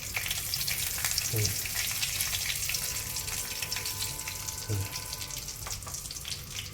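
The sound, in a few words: asafoetida (hing) sizzling in hot oil while tempering puffed rice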